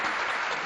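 Audience at a ghazal recital in Lucknow applauds, a dense wash of clapping filling the whole short moment at steady loudness.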